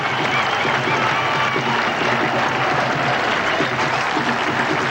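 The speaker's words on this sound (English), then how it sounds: "And there's generous applause from the England players for Kapildev's 50." Dense, continuous applause from players and crowd at an England v India Test cricket match at The Oval fills the whole stretch, steady and loud with no pauses.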